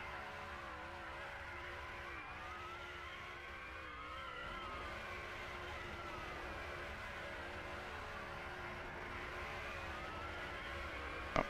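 Race cars doing burnouts at Lime Rock Park during a racing event, sustained engine revving and tire squeal with wavering pitch, steady and moderately distant throughout with no voices.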